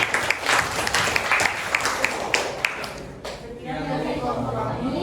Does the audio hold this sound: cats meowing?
no